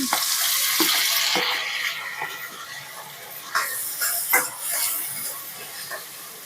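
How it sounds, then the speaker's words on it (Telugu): Cucumber and tomato pieces fry with lightly browned onions in a pan, giving a bright steady sizzle that fades a little, then spatters and scrapes as they are stirred, with no talking. "ఆనియన్స్ లైట్ బ్రౌన్ కలర్ వచ్చినాక దోసకాయ టమాటా ముక్కలు వేసుకోవాలి."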